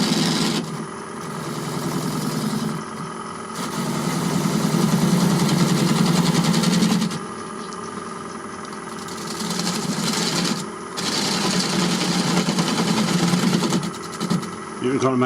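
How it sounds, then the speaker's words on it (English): Wood lathe turning end grain of a bowl with a spindle gouge, a steady whirring motor hum with rising and falling cutting rasp in long passes; a voice talks over it. "This is end grain, so it's a lot easier with a spindle gouge."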